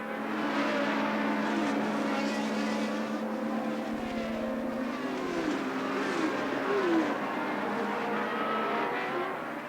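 1982 Formula 1 race cars scream past one after another, a continuous high engine whine that rises and falls with pitch sweeps as the cars pass, steady and fairly loud throughout.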